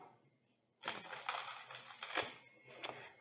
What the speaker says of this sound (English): let's take a look at how it shuffles.